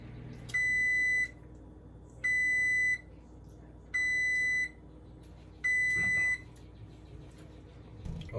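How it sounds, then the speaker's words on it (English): Oven timer beeping while bread bakes, four long, steady electronic beeps evenly spaced over a faint background hum, with a brief low knock near the end. "Timer just went out, or went off."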